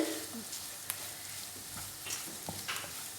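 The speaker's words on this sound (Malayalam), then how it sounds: "ഇത് നന്നായിട്ട് ഇളക്കണം." Onions stirred as they fry in a pan for a tomato fry, a soft steady sizzle with scattered scrape and clatter sounds from the stirring, close and moderately quiet throughout.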